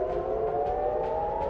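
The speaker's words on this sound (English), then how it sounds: "Air raid sirens in capital Tel Aviv went off" Air raid sirens wailing in Tel Aviv, a steady, sustained civil-defense tone droning loudly and continuously with no speech over it.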